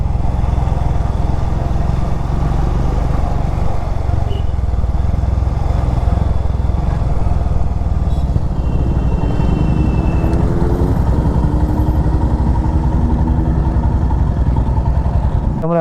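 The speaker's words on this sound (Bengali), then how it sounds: "ওখান থেকে টানা সব বাইক যাচ্ছে ওখান পর্যন্ত একদম।" A steady, loud engine drone from a long line of motorcycles on a North Bengal group ride, carrying on without a break as the bikes run along the road near Chalkhola bridge.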